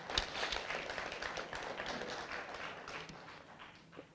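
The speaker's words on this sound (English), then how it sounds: "Let's give them a round of applause." Scattered clapping from a modest audience at a parliamentary portfolio committee meeting, light and uneven, fading gradually over a few seconds.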